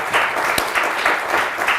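Studio audience applause on a Turkish TV word game show, a steady dense wash of clapping filling the whole moment with slight swells in intensity.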